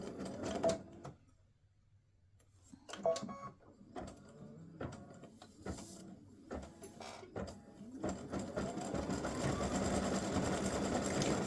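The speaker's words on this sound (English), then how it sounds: "I'm going to stitch the center of the bow." An embroidery machine stitches the center of a free-standing lace bow for earrings, giving quick mechanical rattling bursts, then a pause, then a steadier, denser run of stitching that builds toward the end, close up with no talking.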